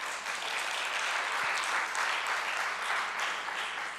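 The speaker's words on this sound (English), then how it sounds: "Let's have another round of applause." Steady applause from an audience at a church health fair, sustained and even throughout the four seconds without letting up.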